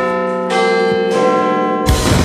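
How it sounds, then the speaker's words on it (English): Sustained, resonant bell tones ring out loudly by the River Thames, with new strikes layering over the lingering hum. "The bell's ringing."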